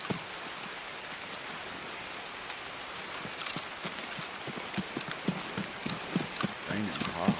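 Hard rain pours steadily through a video game scene, with a dense hiss and scattered drops, while hoof-like clopping taps sound intermittently and players talk over it.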